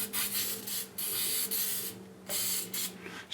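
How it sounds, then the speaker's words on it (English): Battery post protectant sprays onto the posts of a 2006 Club Car DS 48-volt electric golf cart in several short hissing bursts, close and fairly soft, separated by brief pauses. "spray down all of our battery posts with a battery post protectant."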